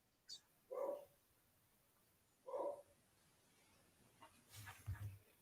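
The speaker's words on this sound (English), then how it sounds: "Is that the new dog or the old dog?" A dog barking at home gives two short, muffled barks about two seconds apart, faint and somewhat distant, before soft low thumps and rustling follow.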